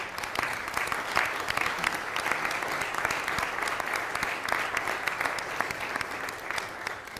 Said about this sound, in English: if you would give a round of applause for Javon Patterson